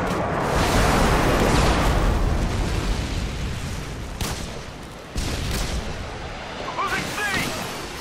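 Harrier jets deliver a heavy airstrike in Modern Warfare 2, with loud, rumbling explosions and gunfire crowding the opening seconds, then fading into scattered bursts and distant blasts.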